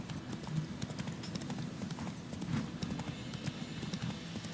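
Hooves of the horse Roach gallop in The Witcher 3, a fast steady clip-clop rhythm close up over a soft background bed.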